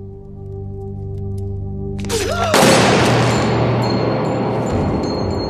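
Video-game gunfire in a Club Penguin scene breaks out as a sudden loud burst of rapid shots that cuts off a tonal musical passage, then continues as sustained crackling fire.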